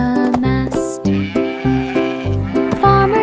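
Sheep bleating in a farm fair setting, a few short bleats woven into bright children's song music with steady instrumental backing and no speech.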